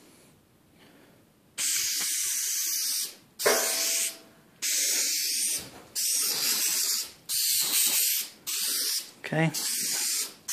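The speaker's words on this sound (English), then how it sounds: "we have to put a line of adhesive all the way around on the fabric and on the panel" Upholstery adhesive sprays in about seven steady hissing bursts of a second or so each, close by, as a line is laid around fabric and a door panel for a 1930 Ford Model A interior; a brief spoken word comes before the first burst.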